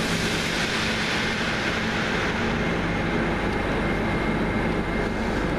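A train in the Benelux rumbles close by with a loud, continuous low roar and a faint hum, steady throughout with no voices.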